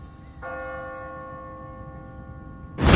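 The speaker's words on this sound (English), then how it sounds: "What kind of church bell goes off at 20 past the hour?" A church bell rings in The Walking Dead Season 1 video game, one sustained toll humming steadily for over two seconds with bright ringing overtones, cut off by a sudden loud burst at the end.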